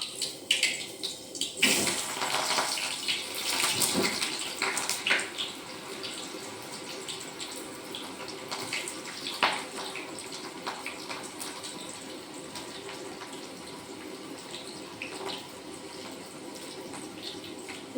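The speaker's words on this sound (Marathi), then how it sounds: "छान शेंगा धुवायला ठेवल्या आहे" Water splashes and runs close by as val bean pods are rinsed, with uneven sloshing bursts that settle into a softer, steady trickle.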